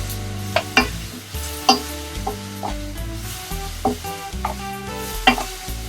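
Irani-style chicken mince with ginger-garlic paste, cumin and coriander powder sizzles in a pan while a spoon scrapes through it in repeated sharp strokes, with a steady hum beneath.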